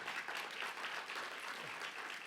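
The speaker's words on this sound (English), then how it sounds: "I just want to give you a round of applause" A conference audience at a reentry event claps steadily in a dense, even wash of applause, moderately distant and holding level throughout.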